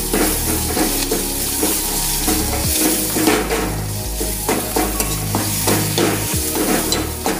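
Ginger garlic paste fries in a pan with a steady loud sizzle while a spoon scrapes and stirs it, making repeated clinks and scrapes against the metal.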